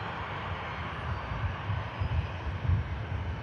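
Aircraft engines rumble at Manchester Airport, a continuous low roar at moderate distance that swells gradually louder toward the end, with no one talking.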